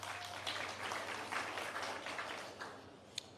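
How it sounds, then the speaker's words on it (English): An audience at the Cherokee Nation State of the Nation 2024 applauds, a steady wash of clapping from a large crowd that fades slightly toward the end. "it's probably not going to work out where you hold your applause, so let's just roar it"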